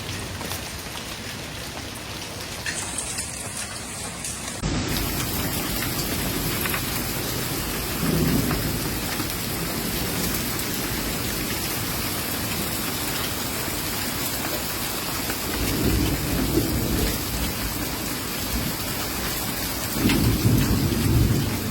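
Torrential storm rain pouring steadily during a severe thunderstorm in the Carolinas, with rolling thunder rumbling beneath the dense, continuous downpour and swelling in louder surges throughout.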